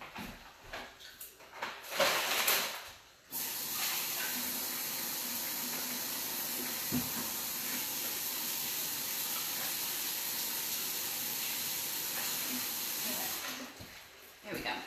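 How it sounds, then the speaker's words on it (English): Camarones a la diabla shrimp sauce simmering in a pan gives a steady close hiss and bubble lasting several seconds, with brief handling noises before and after. "Now that's simmering."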